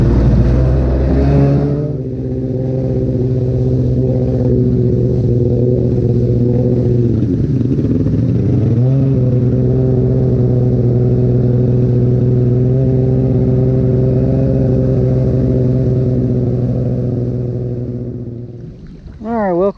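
A Kawasaki X2 stand-up personal watercraft starts and runs, its loud, buzzing engine drone holding steady with a brief dip and rise in pitch as the throttle changes, close by, before the sound ends abruptly.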